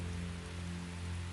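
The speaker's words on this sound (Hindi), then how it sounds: "आज बहुत दिन बाद सुनी है बारिश की आवाज।" Steady rainfall patters continuously on surfaces, an even hiss with a low, droning tonal hum beneath it and no speech.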